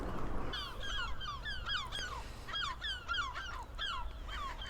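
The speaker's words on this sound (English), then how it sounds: "Seagulls are out in force today." Seagulls at Macduff harbour give repeated shrill, descending cries in overlapping bursts, several birds calling at moderate distance over a low background rumble.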